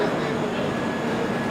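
A weekly passenger train from Amritsar to Ajmer rolls along, producing a steady loud rumble with no breaks.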